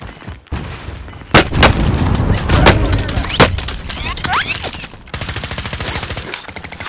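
Gunfire in a video game: a series of sharp, loud shots and bursts, some rapid and rattling, scattered across the clip with brief quieter gaps between volleys.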